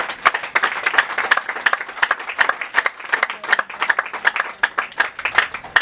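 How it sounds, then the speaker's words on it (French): An audience at an inauguration ceremony applauds for the president: dense, steady hand clapping from many people that carries on evenly throughout. "Si on peut applaudir pour le président."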